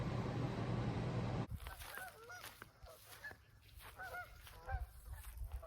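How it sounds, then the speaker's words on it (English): Geese that have just flown in honk outdoors, a flock giving repeated short calls at moderate distance over steady background noise, after a brief louder rush at the start. "some geese just flew in back there."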